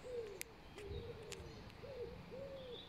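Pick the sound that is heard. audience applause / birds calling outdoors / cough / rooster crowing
birds calling outdoors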